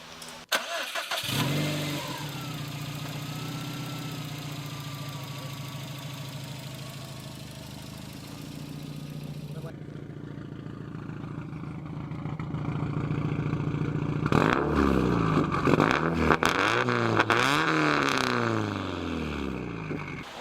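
A Subaru WRX STI engine idling and revving as the car is driven off a dyno, a steady mid-pitched drone that shifts around ten seconds and then rises into several revving surges near the microphone.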